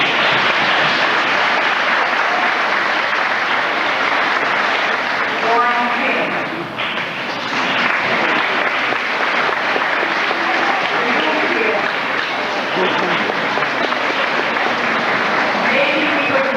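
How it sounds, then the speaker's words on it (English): Sustained, loud audience clapping at an 8th grade graduation ceremony, dense and continuous throughout, dipping briefly in the middle before swelling again, with faint voices underneath. "Maybe we could hold the applause until we finish"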